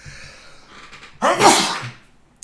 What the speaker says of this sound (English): Oh, excuse me, I'm going to have to sneeze now.